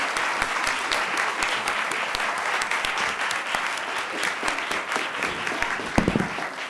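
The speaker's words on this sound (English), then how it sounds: "If we could give the students from Easton another round of applause" Students from Easton receive a round of applause at a board of education meeting, a steady full room of clapping that runs on evenly at moderate loudness, with a brief bump of noise near the end.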